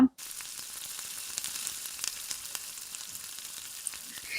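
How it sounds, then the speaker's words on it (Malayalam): Chopped onions sautéing in a pan for restaurant-style gobi Manchurian, a steady, close sizzle and crackle of frying that runs unbroken, with occasional soft clicks and no voices. "സവാള നല്ലോണം സോഫ്റ്റായി വരുന്നത് വരെ ഒന്ന് വഴറ്റി കൊടുക്കുക"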